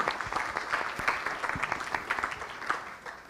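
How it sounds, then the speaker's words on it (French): A crowd applauding, a dense wash of many hands clapping steadily at a fairly loud level, with a few sharper individual claps standing out. "Vous applaudissez le docteur, s'il vous plaît."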